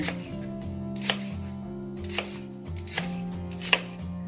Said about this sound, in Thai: ส่วนที่เป็นก้านนะเราก็อาจจะหั่นค่ะ ให้มีความกว้างขึ้นมาหน่อยนะ